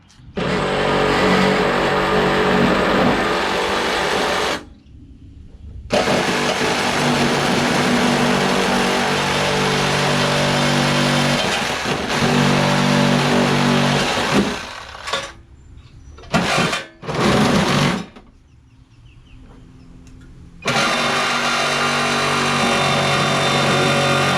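A Scotts by John Deere lawn tractor with a repowered engine runs while mowing a lawn, a loud steady buzzing drone that drops out several times then returns, heard up close with no talk.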